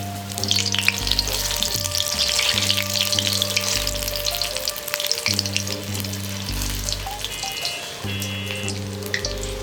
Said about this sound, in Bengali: এই ফুলকপিগুলো ব্যাটারের মধ্যে ভালো মতো ডুবিয়ে তেলের মধ্যে ছেড়ে দেবো